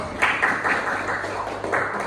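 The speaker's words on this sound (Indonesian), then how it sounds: "Beri tepuk tangan untuk Dek." A classroom group applauds a student during a school election simulation: a short burst of steady, close clapping lasting about two seconds, with no speech over it.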